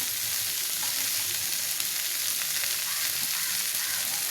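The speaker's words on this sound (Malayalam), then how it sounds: "നമ്മൾ അരിഞ്ഞു വെച്ചിരിക്കുന്ന പാവയ്ക്ക അതിലേക്ക് ചേർത്ത് കൊടുക്കാം." Chopped bitter gourd sizzles steadily in hot oil in a pan, a dense, even frying hiss close by with no talking.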